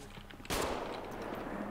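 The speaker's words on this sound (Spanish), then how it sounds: "Estoy oyendo tiros." A sudden loud burst of video game gunfire in a zombie roleplay game erupts after a quiet moment, sustained rapid shots filling the rest of the short clip.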